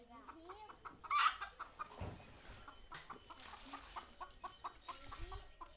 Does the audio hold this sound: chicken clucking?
yes